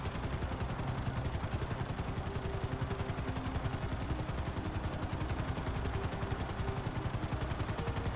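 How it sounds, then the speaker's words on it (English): Helicopter in Grand Theft Auto V flying near a building's edge, a steady rapid rotor chop and engine drone throughout, alone and fairly constant. "why is my helicopter so wobbly?"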